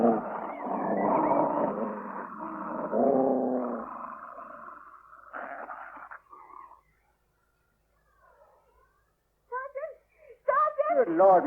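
Dogs snarl and growl menacingly in a radio drama scene, a sustained rough snarling chorus that drops away into near silence before brief growls and voices return.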